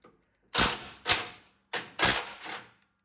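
Dewalt 12V DCF801 impact driver converted to a 1/4 inch anvil, turned up to a higher speed setting, firing five loud close bursts of rapid hammering with short pauses between them, no talk.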